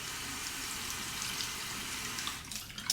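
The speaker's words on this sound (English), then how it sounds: "Saturate the brush under the hot water." Hot tap water running over a shaving brush at a sink, a steady soft splashing hiss close by, with a few louder spatters near the end and no voices.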